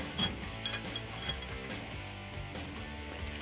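Bolts are started by hand while fitting a Barricade HD rear bumper on a 2014-2021 Toyota Tundra, giving quiet metallic clicks and light ratcheting taps scattered over a few seconds, close by and faint.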